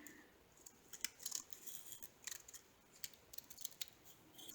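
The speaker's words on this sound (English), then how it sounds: "you're going to cut right here straight" Scissors cut straight through card paper for a cake box, a close run of crisp, uneven snipping and rustling clicks with no talk.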